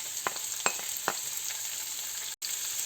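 Sliced onions and capsicum frying in oil in a pan, with a soft steady sizzle, a few light crackles and a brief cut near the end, with no voices.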